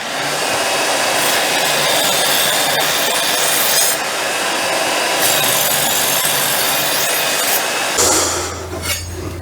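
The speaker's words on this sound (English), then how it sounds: "one of these modern electric sharpeners with a coarse and a fine setting is absolutely fine and really quick" An electric knife sharpener with coarse and fine settings whirs loudly and steadily at close range as a kitchen knife is drawn through it, with a grinding rasp over the motor. A lower hum takes over near the end.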